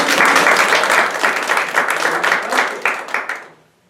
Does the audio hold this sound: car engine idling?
no